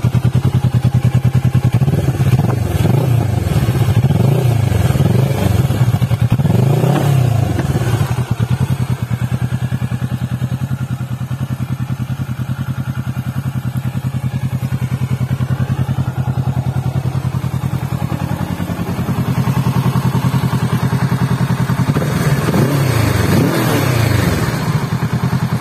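A Kawasaki Ninja 650 motorcycle engine idles close by and is revved in repeated bursts near the start, again midway and near the end, with a loud, continuous rumble between the blips.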